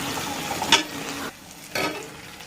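Prawns frying with masala in a pan for a prawn pickle, heard as a close sizzle with two short bursts of stirring scrapes and a brief quieter gap between them, with no speech.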